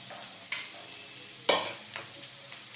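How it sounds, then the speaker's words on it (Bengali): Chopped onion sizzles steadily in a hot pan of oil for a simple Bengali vegetable dish, with a few scraping stirs of a spatula breaking through the close, constant frying hiss. "পেঁয়াজ আর রসুনটা একটু লাল লাল করে হালকা ভেজে দেবো।"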